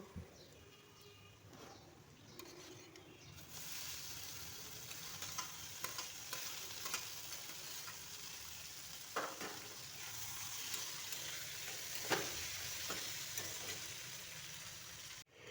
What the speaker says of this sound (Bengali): গ্যাসের ফ্লেমটাকে মিডিয়াম রেখে পেঁয়াজগুলোকে লাল লাল করে ভেজে নিতে হবে